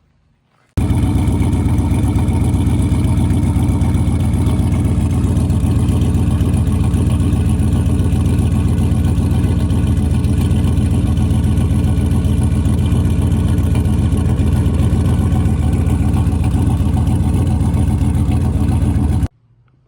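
A car engine with a suspected blown head gasket runs at a steady idle, a loud continuous low drone heard up close at the exhaust downpipe, starting abruptly and cutting off sharply at the end.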